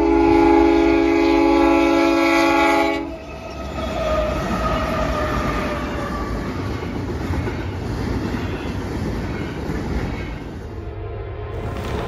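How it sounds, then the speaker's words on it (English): Eastbound intermodal freight on the NS Chicago line near Lacarne, Ohio, led by two BNSF GE locomotives, opening with a loud sustained horn blast that cuts off and gives way to the steady rumble and clatter of passing cars. "catch this eastbound intermodal with two BNSF GEs leading the way"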